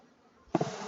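Honey bees buzzing at an opened hive during an autumn packdown, a close, sudden swell of buzzing that starts abruptly midway and continues steadily.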